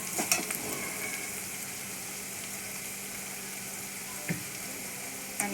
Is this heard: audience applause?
no